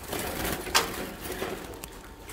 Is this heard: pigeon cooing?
yes